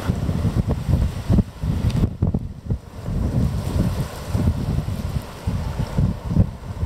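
Cold wind gusting outdoors and buffeting the microphone of a camera with an Olympus 75-300 lens, a steady low rumble rising and falling in uneven gusts, loud and close, with no speech.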